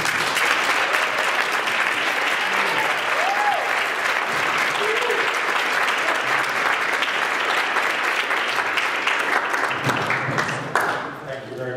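An audience at a keynote presentation applauds to welcome speaker Benny Vaughn: steady, dense clapping from a large crowd that holds for about ten seconds and then tapers off, with faint voices beneath it.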